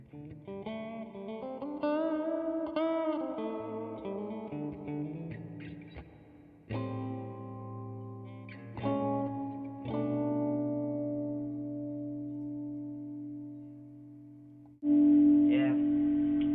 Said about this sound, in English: Then I'll show you the reverb.